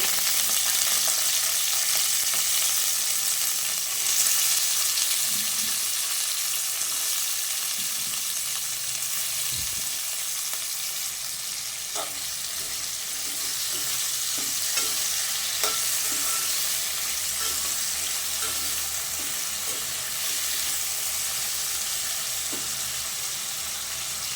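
Bitter gourd (kakarakaya) masala fry sizzling steadily in hot oil in a home kitchen pan, with a continuous frying hiss and intermittent scraping clicks of a spoon stirring, no talking.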